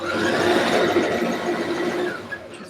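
A sewing machine runs steadily while stitching a pair of pants, a continuous close mechanical whir with a dense even texture that eases slightly near the end.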